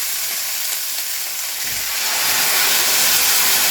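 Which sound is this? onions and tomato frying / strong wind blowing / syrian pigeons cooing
onions and tomato frying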